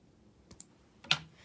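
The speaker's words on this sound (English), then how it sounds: "I'm going to come over here and snip my threads" Scissors snipping quilting threads, two small separate clicks followed by a sharper, louder snip near the end, close up in an otherwise quiet room.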